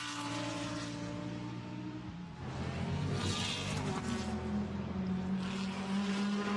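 A Porsche GT race car at Imola during GT World Challenge Europe pre-qualifying roars past, a steady engine note that shifts pitch partway through as it passes.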